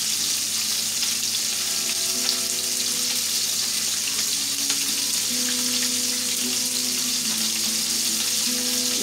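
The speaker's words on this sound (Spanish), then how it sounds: "mientras se sigue friendo la arenca" Herring frying in oil in a pan, a steady dense sizzle and crackle that holds at an even level throughout, with soft music playing faintly underneath.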